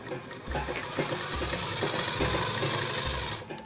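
A foot-pedal sewing machine stitches fabric in steady bursts, its motor whirring loud and close with a low mechanical rumble that starts and stops roughly every second, with no talking.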